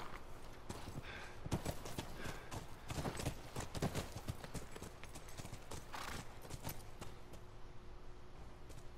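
Horses' hooves clip-clop in a fast, steady gallop in the video game The Last of Us Remastered, over a constant background din, with no one talking.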